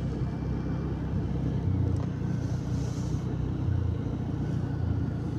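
A motorcycle on a ride through the Munnar hill station keeps up a continuous, steady engine drone and road rumble that stays close and fairly loud, with slight swells in level and no clear talking.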